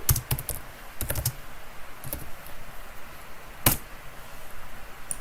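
Keys clatter on a computer keyboard in short bursts of quick taps, separated by quiet pauses and one sharper single stroke, close and fairly soft with no talking.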